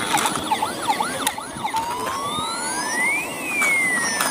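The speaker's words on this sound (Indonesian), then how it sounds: "ini ada mobil ambulan." A toy ambulance siren gives off repeated rising-and-falling electronic wails, then a longer upward sweep, fairly close and steady against a hissy background.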